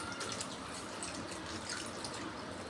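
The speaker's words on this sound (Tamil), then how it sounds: "எங்களுக்கு தேவையான அளவு 1 கப்பு தண்ணி சேர்த்துக்கிறோம்." Water from a one-cup measure is poured into a pan of prawn curry with coconut-milk gravy, giving a steady, close splashing trickle that runs for a few seconds with no voices.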